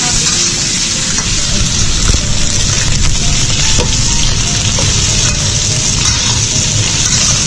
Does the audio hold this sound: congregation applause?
no